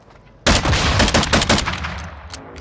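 Loud, close bursts of automatic gunfire in the video game Call of Duty: Modern Warfare II, a rapid rattling volley that starts abruptly and fades over about two seconds.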